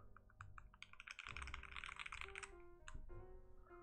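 Typing on a Dumang DK6 mechanical keyboard: quick, close clacking keystrokes in uneven bursts, heard alone over a faint musical background.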